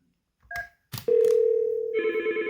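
A Yealink T53 or T54 desk phone places a call to an extension: a couple of short key beeps, then a steady ringback tone that shifts into a brighter, pulsing ring pattern, clear and close with no talking.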